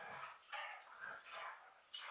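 Two male dogs fighting indoors: faint bursts of growling, yips and whimpers come in short, uneven flurries, quiet and somewhat distant.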